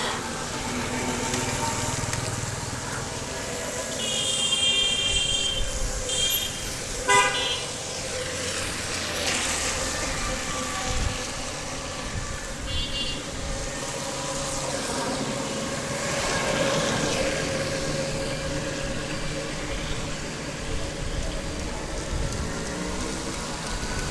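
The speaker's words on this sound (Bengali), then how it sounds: "এখনও বৃষ্টি হচ্ছেই" Steady rain falls across a city street outside an election commission office, a loud continuous hiss with a few brief brighter tones and knocks rising over it.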